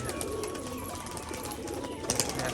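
An old female Rajshahi pigeon coos steadily at close range, low throaty calls over a constant room hum, with a brief flutter of noise near the end.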